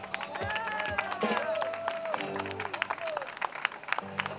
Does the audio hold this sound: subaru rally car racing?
no